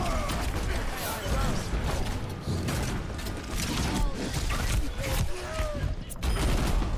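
Junkrat fires his grenade launcher in an Overwatch match, rapid bursts of shots and clattering mechanical noises that run continuously through busy, loud game action.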